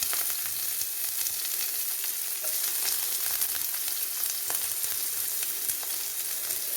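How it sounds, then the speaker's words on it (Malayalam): Onions and chillies fry in a pan while a tapioca dish is being cooked, giving a steady, close, hissing sizzle that continues throughout, with a few faint stirring scrapes and no speech. "നമ്മുടെ ഉള്ളി മുളകെല്ലാം മൂത്ത് വന്നിട്ടുണ്ട്"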